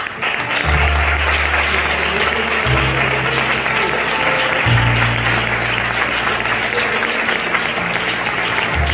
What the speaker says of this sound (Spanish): A Dios simbólicamente en representación le damos un fuerte aplauso